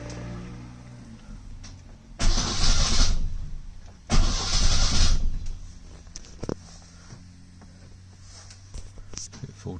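A rebuilt engine in a 1970 Lancia Flavia Milleotto LX, set on choke, cranks in two loud bursts of a couple of seconds each, then falls back to a low rumble with faint clatter between them.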